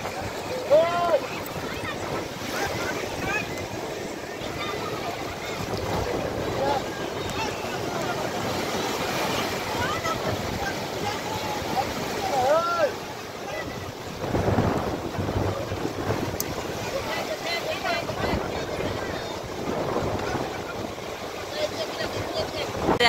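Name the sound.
sea waves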